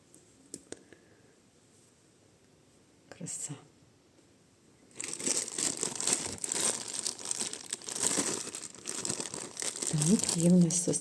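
Close, crackly crinkling of a small plastic packaging bag holding vintage jewellery being handled, starting after a few quiet clicks and continuing in busy rustling bursts, with a faint voice near the end.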